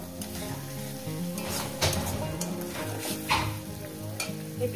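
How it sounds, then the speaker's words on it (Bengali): Egg curry with raw tomato and coriander leaves stirred in a sizzling pan, with steady frying crackle and repeated scraping strokes of a spoon against the pan at a close, moderate level. "ধনে পাতাটা দিয়ে হয়তো 30 সেকেন্ড কি 1 মিনিটের জন্য এটা একটু নাড়াচাড়া করবো"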